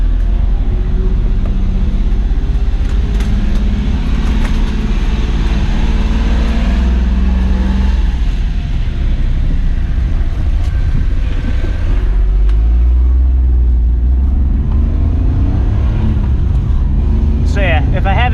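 A 1990 Honda Acty Street G van with a minor exhaust leak drones loudly and steadily as it drives, its engine pitch rising and falling gently, with a person talking over it throughout.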